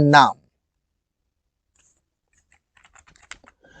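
A brief voice is followed by silence, then a few light, scattered keystrokes on a computer keyboard, typing into an MS Word document, close and quiet.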